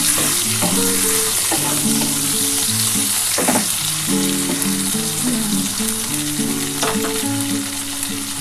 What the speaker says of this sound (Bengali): একটু ভাজা ভাজা হোক একটু ব্রাউন কালার হলে